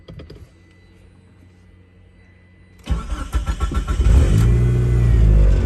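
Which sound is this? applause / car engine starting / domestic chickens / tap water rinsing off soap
car engine starting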